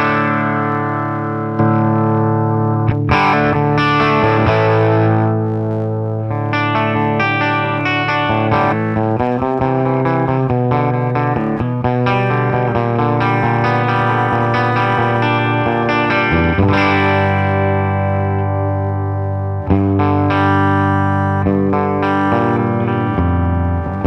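Electric guitar played through an amplifier with a JRockett pedal switched off, sustained chords and melodic lines ringing full and loud for over twenty seconds, with no talk.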